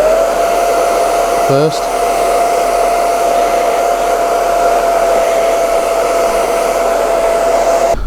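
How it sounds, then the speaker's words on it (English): A hair dryer blows loudly and steadily at close range over leather, a constant whooshing whine broken only by a brief hitch, with a single word spoken near the start. "I'm going to be using a hairdryer for this process"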